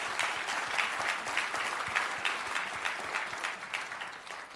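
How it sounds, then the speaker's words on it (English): Steady audience applause at an opening-remarks event, a continuous even patter of many hands clapping, fairly distant and uninterrupted. "at this time, give Coleman Lydon a round of applause"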